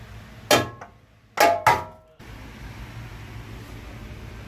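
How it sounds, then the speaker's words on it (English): A hammer strikes metal parts on a 2005 Nissan Frontier during transmission removal: three sharp, ringing blows, one alone and then two in quick succession, each decaying quickly, over a faint background hum. "So I just use my hammer, I hit this side and I hit that side"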